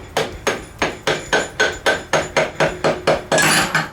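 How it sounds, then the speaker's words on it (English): Eleven evenly spaced rubber hammer strikes on a Vespa PX engine shaft ring out in a steady rhythm, each a sharp metallic knock, ending in a longer clattering hit. "Old-fashioned style. Hammer. Hammer time. A rubber hammer."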